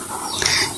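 A single bird calls at dawn as a story sound effect: one short, bright, squawking chirp, close and clear, lasting under a second.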